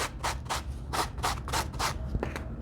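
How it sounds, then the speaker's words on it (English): Sandpaper rubbed over denim jeans to distress them near the crotch seam, a series of soft, rhythmic scratchy strokes, about one every quarter second, close and fairly quiet with no talking. "as I move closer to this crotch point, I be careful to avoid sanding any of my top stitching"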